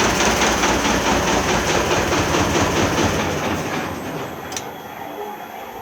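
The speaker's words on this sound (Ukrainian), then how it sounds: "заглушив я мотор, турбіна ось до сих пор вращається" A T-16 tractor's D-21 engine turbocharger, still spinning after engine shutdown: a steady, loud mechanical whir with a rapid fluttering pulse winds down gradually, fading to a quieter hum with a brief click near the end.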